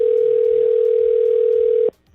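A telephone ringback tone during an outgoing call: a single loud, steady tone holds for nearly two seconds, then cuts off abruptly into near silence.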